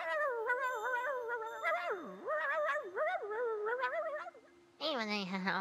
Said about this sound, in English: I almost feel like I can understand this dog.